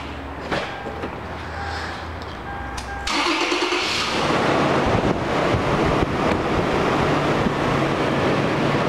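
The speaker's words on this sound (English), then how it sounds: "Now I'm going to start it up and show you where the fuel gauge is." Toyota 4Runner engine starting after a new fuel pump was fitted, a quiet idle-free stretch giving way around three seconds in to the crank and catch, then a steady loud running rumble with wind noise on the microphone.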